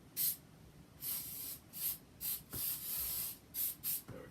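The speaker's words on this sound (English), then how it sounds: "Something I wanted to do real quick here is just throw a little bit of spray mount on here." Spray mount adhesive is sprayed onto a stencil in a series of about eight short hissing bursts, some brief and some longer, close and fairly quiet with pauses between.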